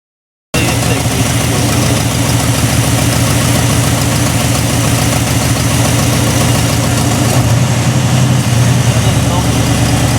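KITT car engine running at a steady idle, loud and close, with a continuous low rumble and even pulsing throughout, and voices talking faintly over it.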